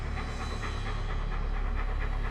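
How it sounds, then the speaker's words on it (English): Heavy, loud rhythmic panting, fast and steady breaths close up, continuing throughout without pause. "The panting is so heavy and so loud."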